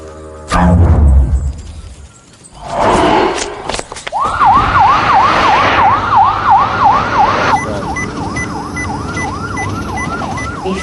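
A loud, close ambulance siren in Hobart yelps in rapid rising-falling cycles after some rumbling traffic noise, continuing steadily to the end.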